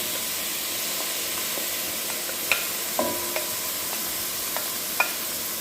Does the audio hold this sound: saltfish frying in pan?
yes